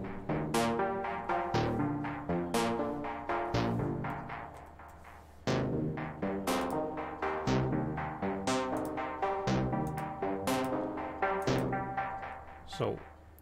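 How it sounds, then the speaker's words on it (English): Omnisphere synthesizer patch called Blade Razor playing bright, plucky notes and chords with sharp attacks and decaying tails in a rhythmic pattern, moderately loud with no voice. "So that's what Blade Razor actually sounds like."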